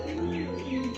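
A pigeon pair, a Huma male with a local deshi female, coos softly up close in a brief, low, throaty call. Faint chirps are layered in as well.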